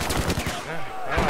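Close, loud bursts of automatic gunfire in the shooter Battlefield 4 during a conquest match, with rapid repeated shots and a short pause before another burst.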